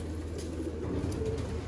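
Pigeons coo in a loft in Sialkot, soft low throaty calls blending over a steady background hum, close by, with no talking.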